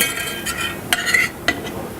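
A spoon works through thick jus in a pot with soft scraping stirs and a few sharp clinks of metal against the pan, close and fairly loud over a quiet background.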